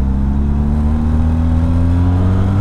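A Benelli TRK 502 X motorcycle engine revs up close, a loud sustained mechanical drone with a slowly rising pitch and no talking.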